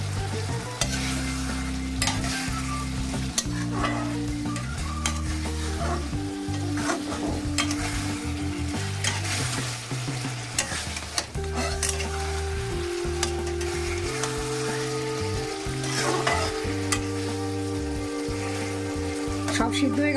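Dry fish curry with potatoes (amudi shutki) stirred in a pan over a high gas flame, giving a steady close sizzle with scraping strokes, running alongside a constant tonal music bed throughout.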